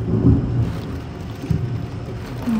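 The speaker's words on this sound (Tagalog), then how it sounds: "Ang lakas, kumukulog pa. At kidlat." Heavy rain pours steadily in Saudi Arabia while deep thunder rumbles low underneath, swelling in a couple of brief surges.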